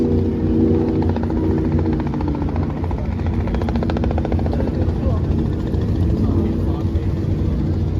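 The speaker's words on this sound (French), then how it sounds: "Il y a des hélicos, bateaux." A helicopter flies over a line of racing boats off the coast, its rotor thudding in a loud, steady rhythmic chop close by, mixed with a low engine rumble for the whole stretch.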